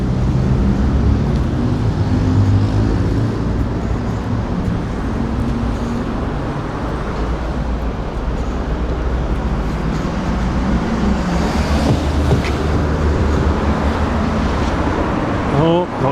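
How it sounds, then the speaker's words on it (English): Continuous roar of cars passing on a busy street in Shibuya, Tokyo, with steady low traffic rumble and vehicles going by close at hand, while a voice talks over it. "I don't know how much you'll be able to hear anyway with all the bloody cars going past"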